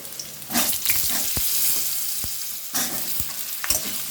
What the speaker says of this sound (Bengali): তো এই তেলেতে আমি এবার আলুগুলো দিয়ে দেব।